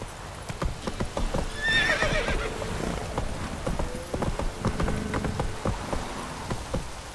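Roach the horse in The Witcher 3 gallops with rapid, loud clip-clop hoofbeats over falling rain, and a brief neigh rises early on, all up close.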